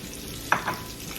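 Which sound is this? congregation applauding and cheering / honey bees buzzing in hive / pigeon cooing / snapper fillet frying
snapper fillet frying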